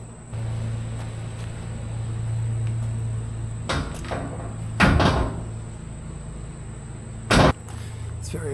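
Steel and wood barn doors slide along their track, with a low rolling rumble followed by a few sharp knocks and clunks as the heavy panels move and stop, heard close with no talking.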